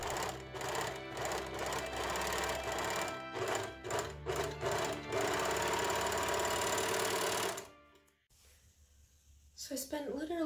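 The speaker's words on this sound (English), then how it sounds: "I flatlined each piece by machine sewing around the outside edge. I then serged all of the edges of each piece" A sewing machine and serger stitch the edges of flatlined bodice pieces for a Victorian ice skating dress, giving a loud continuous motor hum with uneven bursts that stops abruptly near the end, followed by brief quiet.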